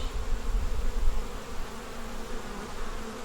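Honeybees at an open hive during a queen-cell inspection make a steady, dense buzzing hum that stays loud and close throughout, with no voices.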